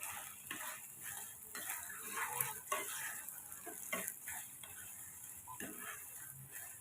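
Broken wheat upma is stirred in a pan, a faint continuous sizzle with soft repeated scraping strokes of a spoon at an uneven rhythm.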